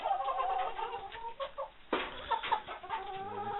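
Several chickens inside a coop in the evening cluck and murmur steadily at moderate volume, with one sharper squawk rising midway through the chorus.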